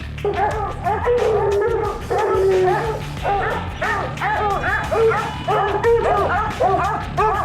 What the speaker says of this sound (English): At daybreak this morning, the dogs absolutely go nuts.